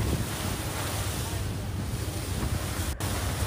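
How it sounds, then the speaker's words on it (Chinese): A speedboat runs across the open sea near the Xisha islands, its hull slapping waves amid steady wind rush and engine roar, loud and continuous. "快艇驶向了我们的南海游轮。"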